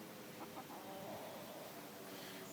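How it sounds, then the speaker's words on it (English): Titus, a backyard homestead rooster, clucking faintly in a few low soft notes at a distance, under a constant background hiss on a hot day. "Now this is a rooster."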